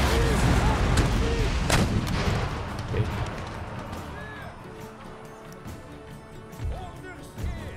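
Cannon fire in the strategy game Empire: Total War, several heavy booming blasts close together at first, then fading to scattered rumbling shots with a distant crack near the end.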